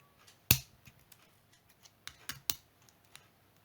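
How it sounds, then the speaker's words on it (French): Small plastic tip of a mechanical pencil being cut, heard as one sharp snip followed by a few lighter clicks and snaps, close and quiet with no talking. "vous venez couper encore l'extrémité."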